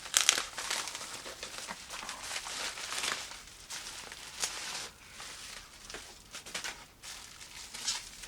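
A taped-up priority mail package is torn open up close: continuous crinkling and rustling of packaging with a few sharper rips, fairly quiet. No voices.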